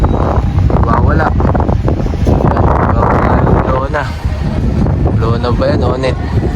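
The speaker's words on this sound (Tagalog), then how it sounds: "Lakas din pala ng hangin mga kalapatids." Strong wind buffets the microphone at an outdoor pigeon racing loft during a sprint race, a steady rushing roar that runs the whole time while voices talk over it.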